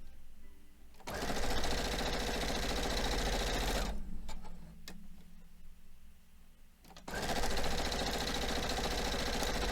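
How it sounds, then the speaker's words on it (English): A sewing machine stitches quilt pieces with a scant quarter-inch seam, a steady, fast, close mechanical whir. It runs in two bursts with a quieter pause between them. "all I'm doing is I'm sewing each of these with a scant 1/4 inch"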